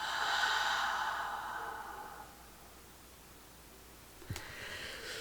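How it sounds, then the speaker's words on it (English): Someone takes a slow, deep breath in and lets it out again, a close, breathy rush of air followed by quiet and then a faint sniff. "Taking another deep breath. Breathe in. And breathe out."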